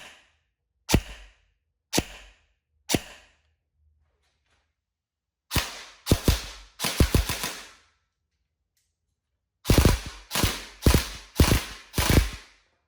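An LCT PP-19 airsoft gun fires through a chronograph: three spaced single shots with sharp mechanical snaps, then short rapid bursts of several shots each, close and crisp against silence.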